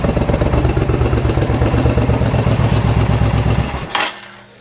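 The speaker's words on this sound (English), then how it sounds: "when I hit the throttle on this thing, the whole bike shakes" A 1400 cc Suzuki Intruder motorcycle engine running close and loud with a rough, pulsing, shaking rumble, then the throttle is snapped and released near the end before it drops back, with no talking.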